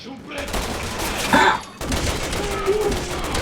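In a video game, rapid bursts of gunfire rattle out as a dense volley, close and loud, and someone talks excitedly over the shots.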